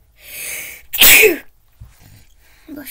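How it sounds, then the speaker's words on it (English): A single loud sneeze from a Roblox video game character, rising sharply and fading within half a second, with brief game sounds around it and no talk over it. "Sneeze."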